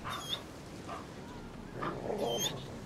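An in-game wolf in The Witcher 3 gives a few short, soft whimpers in brief bursts, heard over a low continuous background hum.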